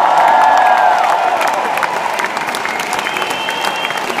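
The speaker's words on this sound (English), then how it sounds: "Can you give these two gentlemen a round of applause" A large audience at the Royal Albert Hall in London applauds steadily at a concert, the dense clapping loud and sustained throughout, with a few scattered cheers mixed in.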